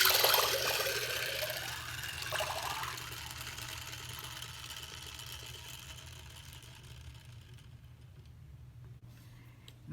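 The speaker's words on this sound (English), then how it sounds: "Skye's tail acts like a propeller. Let's watch her swim in real water." A Paw Patrol Paddlin Pup toy of Skye churns through real water, its small motor whirring steadily with a watery splash and hum that slowly fades, no voices over it.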